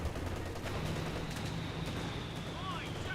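Gunfire hitting an assault section in the strategy game Company of Heroes 2, dense crackling distant bursts and rumbling battle noise running steadily under a commentator's voice.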